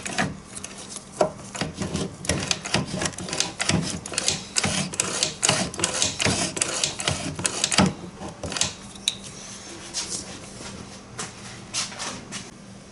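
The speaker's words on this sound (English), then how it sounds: "So watch when I activate the Kickstarter." Kick starter on a Yamaha PW50 with its shaft being replaced, worked repeatedly by hand: a run of close, dry clicking and ratcheting clacks of varied loudness, thinning to sparse taps near the end.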